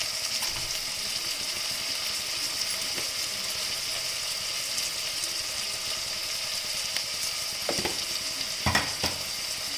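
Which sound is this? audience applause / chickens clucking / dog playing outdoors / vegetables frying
vegetables frying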